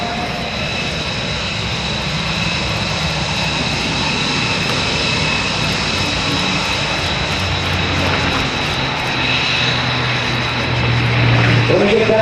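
A 1,700-horsepower Packard-built Rolls-Royce Merlin aircraft engine roars steadily as the plane makes a flyby at an open house air show, loud and sustained, swelling slightly toward the end.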